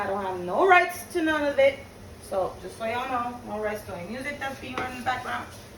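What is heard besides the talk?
No distinct noise like a dog, phone or traffic.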